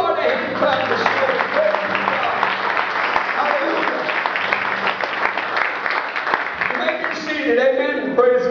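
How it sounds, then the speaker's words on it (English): A church congregation applauds during a morning service, sustained steady clapping from many hands filling the room, with voices calling out over it and music rising near the end. "Give the Lord a hand and clap this morning."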